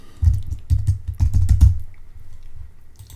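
Computer keyboard typing in an image-editing session: quick bursts of close keystrokes in several short clusters, then a quieter tail, with no voice.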